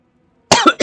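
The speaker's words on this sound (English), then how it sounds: "Oh, my coughs." After a near-silent moment, a person coughs sharply three times in quick succession, close and loud.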